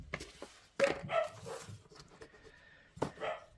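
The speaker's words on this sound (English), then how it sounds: "Excuse my dog's barking." A pet dog barks and yips in a few sharp bursts indoors during a sewing journal craft session, with softer whimpers between louder barks.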